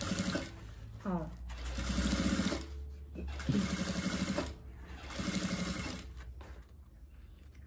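A sewing machine stitches along the crease of a fabric diaper holder in three quick bursts with short pauses between them. The close mechanical whirring is steady, and quiet handling sounds fill the gaps.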